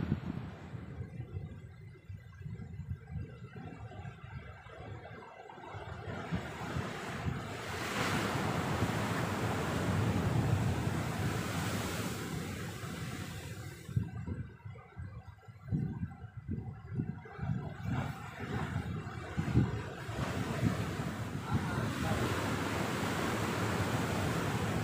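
Strong, gusty wind roars across a microphone at a seaside fishing spot, with surf washing underneath, loud and continuous with surging gusts and short lulls, no talking.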